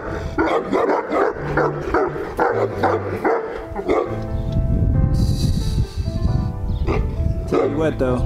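Several Neapolitan Mastiffs at a kennel bark in quick, repeated bursts, some yips and whimpers mixed in, over a noisy background with a person's voice nearby.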